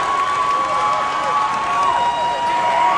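A crowd at a college men's basketball game, Montevallo versus Lee University, roars and cheers without pause around a free throw, a dense wall of gym noise with shouts and whistles running through it.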